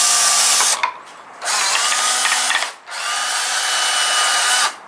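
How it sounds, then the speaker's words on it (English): A power drill with a dull bit bores a hole during an LED ditch light install on a 3rd generation Toyota Tacoma. The bit grinds loud and close in three long bursts with brief pauses between. "this isn't the sharpest type of blade or drill bit. That's why it's kind of just melting its way through a little bit"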